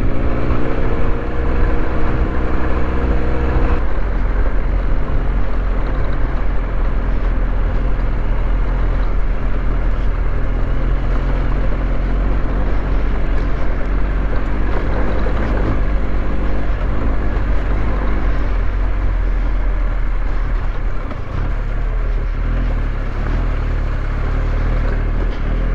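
An adventure motorbike engine runs steadily on a rutted North Yorkshire trail, shifting up into second gear early on. The broad, continuous rumble stays loud and close throughout, with no talk.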